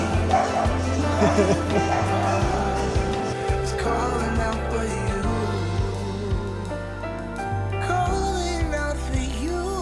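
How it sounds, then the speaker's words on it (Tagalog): Several dogs yip and bark in short bursts amid the constant music and crowd noise of a street fiesta in Metro Manila, with voices talking throughout. "Daming cute na mga aso."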